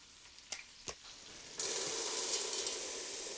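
Vegetables sizzle as they heat through in bacon fat for a pea soup base: a couple of sharp utensil knocks, then a loud, steady broadband frying hiss that holds to the end.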